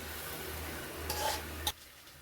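Mashed eggplant and coriander sizzle softly in a pan as a spoon stirs them, ending in a brief scrape against the pan before the frying noise drops away.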